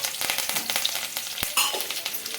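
Garlic, green chillies and curry leaves crackle and sizzle in hot oil, a dense spattering fry with rapid pops and a sharp clack of a spoon midway, close and fairly loud with no talking.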